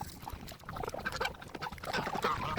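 Hungry farm pigs at feeding time grunt and squeal continuously and loudly up close, a busy overlapping chorus of oinks with no talking.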